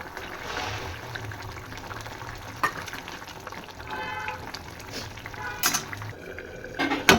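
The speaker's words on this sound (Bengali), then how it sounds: "মাছ দিয়ে দিচ্ছি" Fish is added to a curry simmering with beans and potato, a soft bubbling, liquid burble with occasional splashes and clinks of utensils against the pot, close by.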